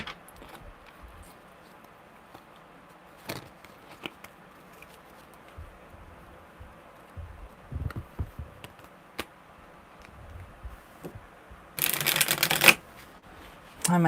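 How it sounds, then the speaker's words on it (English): A deck of tarot cards is shuffled close by, a sharp burst of riffling near the end after scattered soft handling taps and light rustles. "Alright, one more good shuffle."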